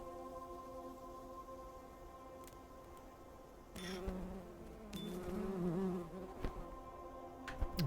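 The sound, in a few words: bees buzzing in the video game Preserve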